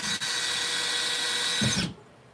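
Power drill whirring steadily as it drives 1.5-inch pocket hole screws into wood, a single continuous close buzz that ends with a brief lower grind before stopping.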